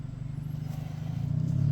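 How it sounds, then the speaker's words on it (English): A car pulls up outside a house, its engine a low rumble that grows gradually louder and nearer over a short stretch, with no talking. "There's the distinctive sound of my older son's girlfriend's car."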